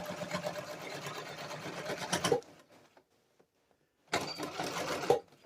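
A sewing machine stitches along an original seam, running steadily for about two seconds, falling silent, then starting again for another short run, close and clear.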